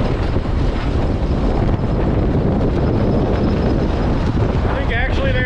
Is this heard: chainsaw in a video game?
no